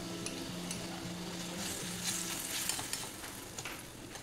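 Ginger, garlic and green chilli paste sizzling in a pan with onion paste for a shol fish curry, a steady close frying hiss with occasional spatters and faint stirring, no voices.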